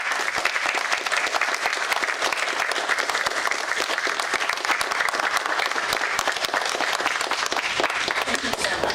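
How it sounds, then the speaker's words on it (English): Indoor audience at a West Virginia ceremony applauding steadily, a loud, dense clatter of many hands that holds for several seconds, with a voice faintly underneath. "We should all applaud our great president, our speaker"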